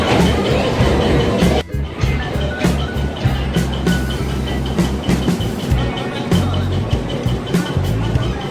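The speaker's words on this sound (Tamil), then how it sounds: "Elephanta கேவ்ஸில் toy train run ஆயிடுச்சிங்க." A toy train carrying passengers at Elephanta Caves island, a steady close rumble with rhythmic clicks and rattles of the cars throughout, and faint voices in the background.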